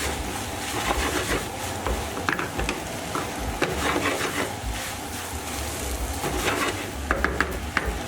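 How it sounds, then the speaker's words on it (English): Spring onions tossed into special fried rice in a hot wok, a continuous loud sizzle with frequent metallic scrapes and clinks of stirring, close up, no speech. "And we'll add in our spring onions at this point."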